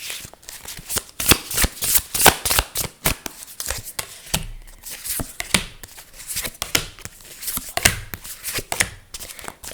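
Lover Oracle cards are shuffled by hand in a rapid run of crisp riffling and flicking bursts, close and fairly quiet, with no voice over them.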